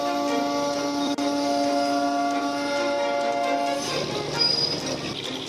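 The Darjeeling narrow-gauge toy train rumbles along with a sustained whistle or horn tone, then a burst of rattling clatter near the end.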